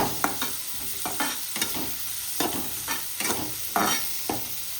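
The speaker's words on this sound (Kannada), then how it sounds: "ಈರುಳ್ಳಿ ಹಾಕಿ ಸ್ವಲ್ಪ ಎಲ್ಲ ಫ್ರೈ ಮಾಡಬೇಕು ಇದನ್ನು." Onions frying in a pan for chicken liver pepper dry, soft steady sizzle broken by repeated scraping stirs at a loose, regular pace, close and fairly quiet with no talking.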